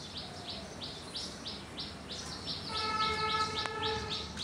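A common hill mynah imitating a chicken's call gives a run of evenly repeated bright chirps, then a sustained, harmonic, whistle-like call. It is close, fairly faint and heard alone.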